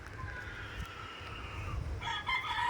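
Chickens crow and cluck faintly against a steady outdoor rumble, with the calls growing clearer near the end.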